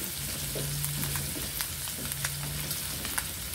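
Onions sautéing in oil after garlic, a steady close-up sizzle with occasional light stirring ticks, continuous and even throughout.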